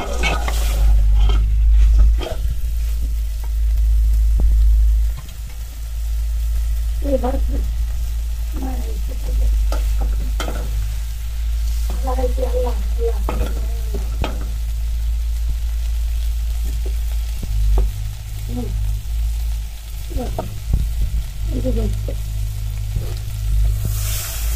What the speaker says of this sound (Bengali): এই যে তেলাপিয়া মাছ হালকা আর কি ভেজে রাখছি